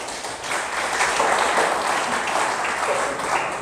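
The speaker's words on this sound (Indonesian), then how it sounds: "Tepuk tangan." A church congregation at a New Year 2023 service bursts into steady applause, a dense wash of many hands clapping throughout.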